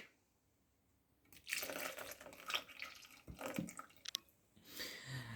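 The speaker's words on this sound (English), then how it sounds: "Then add the milk" Milk pours into a mixture for a homework recipe project, heard as a soft liquid splashing and gurgling that starts after a quiet second, trickles in uneven bursts, pauses briefly, then resumes close by without talk.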